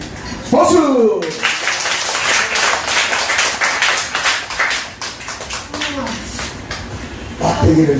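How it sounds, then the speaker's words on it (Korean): A congregation at a church healing service breaks into sustained clapping that lasts several seconds, with voices speaking at the start and end and over the applause. "박수!"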